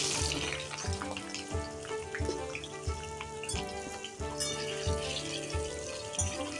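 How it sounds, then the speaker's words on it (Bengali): Pieces of potato, pumpkin and eggplant fry lightly in oil over a medium flame, giving a steady close sizzle and crackle with scattered clinks of a utensil in the pan. "আলু, কুমড়ো, বেগুন, ওগুলো হালকা করে ভেজে নেব।"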